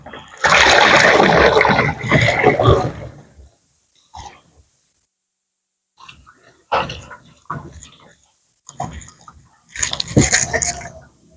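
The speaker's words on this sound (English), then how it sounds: "Pour it into another jerry can." Water sloshes and splashes as it is poured from one jerry can into another while rinsing containers to prepare for palm oil work, coming in a long close pour followed by shorter splashing bursts with pauses between.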